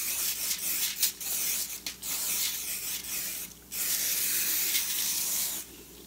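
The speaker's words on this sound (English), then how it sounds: "You're supposed to spray it like this." Cooking spray hisses from an aerosol can into a pan in several steady bursts, each a few seconds long with brief pauses between them, heard close up with no talking.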